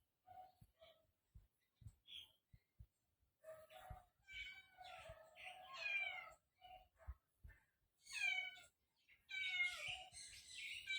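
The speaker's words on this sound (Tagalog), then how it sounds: "Ang lakas na mag-nyaw." Cat recovering from an ear infection meows loudly and repeatedly, several drawn-out calls in irregular bursts close to the listener, with soft taps and shuffling between them.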